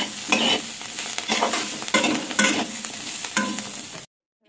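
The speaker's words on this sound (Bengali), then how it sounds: "সামান্য একটু এইভাবে নেড়ে ছেড়ে এরপর পুরো মিশিয়ে দিলাম।" Poppy seeds stirred into a drumstick-flower and potato chochori in a pan make repeated close scraping strokes over a sizzle, about four seconds of busy stirring that cuts off into silence, with no talking.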